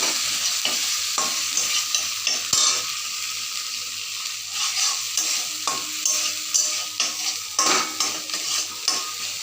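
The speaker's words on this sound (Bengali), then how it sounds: "লবণ দিয়ে দেবো হলুদের গুঁড়ো দিয়ে একটু নেড়ে চেড়ে নেবো" Spices with salt and turmeric being stirred in a frying pan for spiced pointed gourd, a steady oily sizzle under repeated scraping strokes of a spatula against the pan, fairly close.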